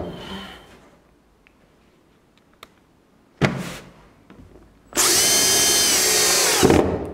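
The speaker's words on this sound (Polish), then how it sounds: "Przykręcę sobie je wkrętem do dachu, żeby nam nie zjeżdżały." Power screwdriver drives a screw through standing-seam metal roof sheets into the roof: a short whirring burst, a pause, then a loud sustained high-pitched buzz for nearly two seconds.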